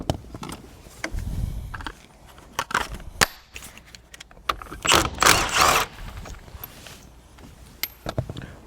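Wrench working on the 19 mm steering wheel nut of a Toyota, close metallic clicks and clanks with irregular scraping and rattling, plus a louder grinding burst midway.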